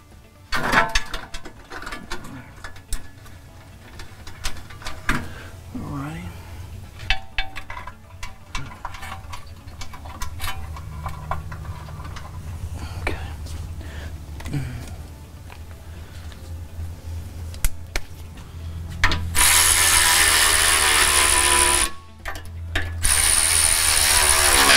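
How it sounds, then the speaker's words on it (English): Ratchet clicking in repeated bursts as bolts on a Ford F150 3.0 diesel skid plate are tightened, close and fairly loud, with pauses between runs and a louder steady mechanical burst near the end. "Tightening of the skid plate."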